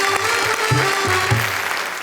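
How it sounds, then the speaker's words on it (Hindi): Audience applause welcoming guests at a Hindi poetry gathering (kavi sammelan), a steady broadband clatter of clapping with a low voice-like hum beneath it through the whole two seconds. "हम जोरदार तालियों से एक बार इनका स्वागत करें और कहें वाह वाह क्या बात है"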